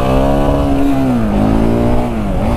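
A Husqvarna 701 Enduro single-cylinder motorcycle rides on the road, its loud close engine droning steadily with the pitch slowly falling and rising as it shifts and accelerates.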